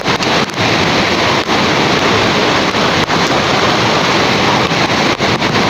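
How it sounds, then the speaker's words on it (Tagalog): Strong sea waves crash and roar in a continuous loud wash, wind rumbling across the microphone over open water, steady with no pauses. "ang lakas ng alon"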